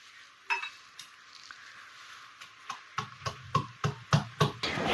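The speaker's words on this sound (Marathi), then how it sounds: "मी खलबत्त्यामध्येच वाटणार आहे" Green chillies, garlic and ginger are pounded in a mortar and pestle, with a series of sharp knocks that start sparse and then come quickly and regularly in the second half, close and clear with no speech.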